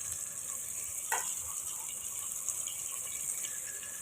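Lauki sabzi frying in a pan, a faint, even sizzle with a hiss throughout and one brief clink from the pan early on, no voices.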